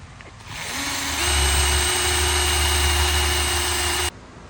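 Wonder Wheel decal eraser spun by a power tool against a decal on a truck camper, a steady high whirring drone that spins up, holds evenly for a few seconds and then cuts off abruptly.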